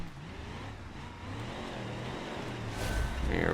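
A custom-built D-Series off-road truck in a trail crawling game revs under throttle, a low steady engine drone rising slightly in pitch and loudness toward the end.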